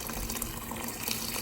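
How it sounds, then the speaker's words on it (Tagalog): Water poured into a pan of sautéed sardines in a home kitchen, giving a steady splashing, hissing pour throughout the short moment, with no talking. "Lagyan natin ng ating tubig."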